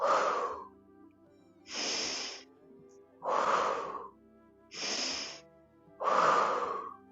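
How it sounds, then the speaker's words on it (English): Slow deep breathing during a spring qigong session, air drawn in through the nose and pushed out through the mouth, five long even breaths spaced about a second and a half apart, close and clear with no talking. "So breathing in through your nose, expand, out through your mouth, contract."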